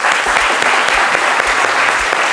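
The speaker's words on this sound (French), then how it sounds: "on l'applaudit bien fort" A studio audience on a French midday TV show claps steadily and loudly throughout a short stretch as a guest of honour enters, a dense, even wash of applause without cheering or talk.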